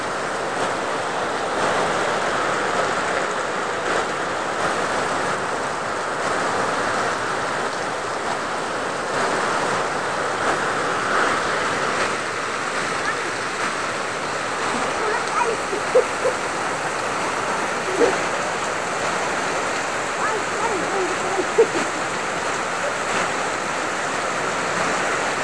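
A sudden heavy rain downpour pours down in a steady, dense hiss of water that continues unbroken throughout, with faint scattered taps rising slightly above the wash.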